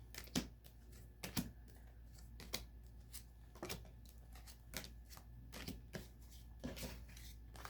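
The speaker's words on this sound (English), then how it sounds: "Go ahead and lay out the cards here." Tarot cards being laid out on a surface during a reading, with soft scattered slaps and shuffling clicks at an irregular pace, close and quiet, with no talk.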